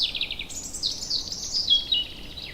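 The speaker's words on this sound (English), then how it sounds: "Gray-breasted parakeet, gray-breasted parakeet." A gray-breasted parakeet gives a quick run of shrill, chattering chirps, then a longer wavering screech, close and clear with no other sound.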